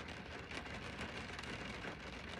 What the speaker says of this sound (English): It's a rainy day here in Atlanta.